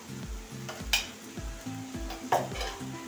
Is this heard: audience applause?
no